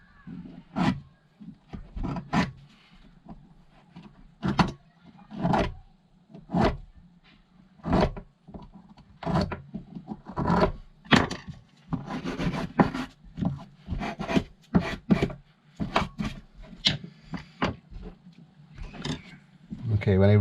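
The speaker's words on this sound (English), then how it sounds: "I'm just going to give these grooves a little rub through." Rhythmic rubbing strokes clean the brake caliper grooves of a Kawasaki Z800, a series of close scratchy passes with short gaps between them.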